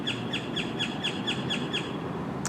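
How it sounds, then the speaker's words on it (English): A bird chirps outdoors in a quick, even series of short, bright calls, about eight in a row, heard over a steady background rumble. "See, the bird agrees with me."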